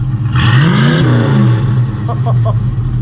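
A 1985 Ford Mustang LX Foxbody 5.0 with longtube headers and a budget X-pipe exhaust blips once, its note rising and falling back to a loud, steady, close idle rumble.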